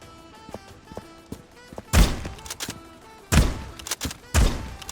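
Pump shotgun blasts in a multiplayer first-person shooter game: three heavy, booming shots spaced about a second and a half apart, with small mechanical clicks and clatter between them, loud and close.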